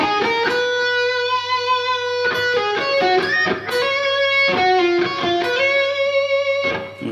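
Electric guitar solo phrase, played alone with no talk: a run of sustained, bending lead notes over a low steady backing tone, clear and fairly loud throughout.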